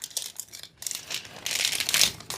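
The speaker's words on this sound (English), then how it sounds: "Awkwardly and slowly unwrapping gifts." Wrapping paper crinkling and rustling as gifts are slowly unwrapped, with several bursts of crisp crackling close by, growing busier and louder toward the end.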